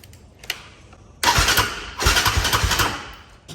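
Can-Am DS450 ATV on a weak battery or poor connection, a faint click followed by two labored bursts of starter cranking, close and rough, with short pauses between attempts.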